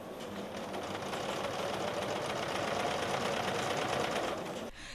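A sewing machine stitches balaclavas in a steady, continuous rapid whir with dense mechanical ticking. The sound is close and even throughout and stops abruptly at the very end.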